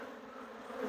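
Honey bees buzzing in an open hive on a farm apiary, a close, continuous drone with a steady hum that swells slightly toward the end.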